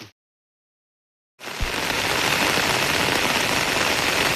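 Heavy rain pours down in a forest, a steady, dense hiss that starts abruptly after a brief silence and continues unbroken, close and fairly even in loudness.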